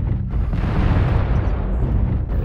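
A missile explosion in MechWarrior Online on the Polar Highlands map, with a loud, broad rumbling blast that holds steady for a couple of seconds before easing off.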